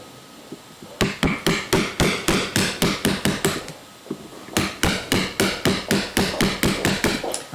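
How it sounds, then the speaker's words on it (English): A hammer drives a chisel to clear wood between cut lines, two bursts of sharp, evenly spaced blows, loud and close, with a brief pause between them. "now we've got to clear this wood, which means with a chisel and a hammer"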